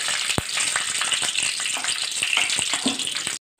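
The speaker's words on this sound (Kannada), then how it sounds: "ಇದೊಂದು ಸ್ವಲ್ಪ ಫ್ರೈ ಆಗಲಿ" Garlic, curry leaves and pepper sizzle in hot oil in a pan, a steady bright crackling and spitting heard up close, with faint stirring knocks, before cutting off abruptly.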